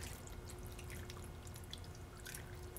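Bourbon chicken marinade pours into a bag holding chicken breasts and herbs, a steady close liquid trickle with light drips throughout, no talking.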